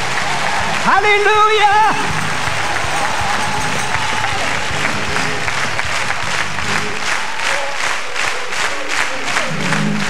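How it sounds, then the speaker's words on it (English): Congregation at a 1996 Dominion Camp Meeting revival service claps steadily in a dense, continuous patter, with a shouted exclamation near the start and a preacher's voice over the clapping. "Clap your hands, everybody, for your new family members that are here."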